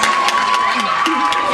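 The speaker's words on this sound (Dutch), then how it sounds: "applaus voor Rofa Boys" A theater crowd claps and cheers for the Roffa Boys group, with whoops and shouted voices rising over loud, dense applause.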